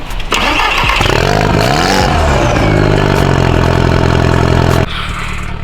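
A car engine cranks and catches, revs up loudly, then settles into a steady close idle before dropping slightly near the end.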